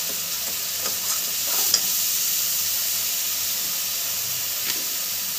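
Ground cumin and turmeric sizzle in hot oil in a pan while being stirred for a Bengali vetki fish bone chorchori. A steady, hissing fry continues throughout, broken by a few soft scrapes and knocks of the stirring spoon.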